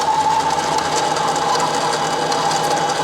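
A mini lathe drills into a steel bung for a chopper, giving a steady, continuous mechanical whir with a faint rhythmic ticking of the turning mechanism, loud and close throughout with no talking.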